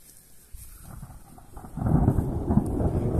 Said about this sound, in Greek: Όπως ακούτε, θα μας πιάσει η βροχή.